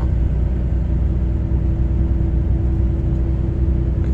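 Truck engine droning steadily from inside the cab while accelerating on a highway near São Miguel dos Campos, Alagoas, a dense low rumble with a faint whir and no talk.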